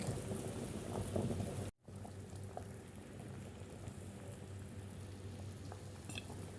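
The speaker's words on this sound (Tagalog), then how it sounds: "Yan, kumukulo-kulo ng ating pataleg." A steady low bubbling of a pork leg boiling in a pot on the stove, continuous and fairly quiet, with a brief dropout near the start.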